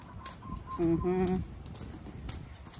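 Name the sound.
rooster crowing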